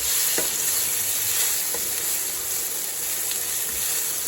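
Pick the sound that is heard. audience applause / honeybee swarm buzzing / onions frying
onions frying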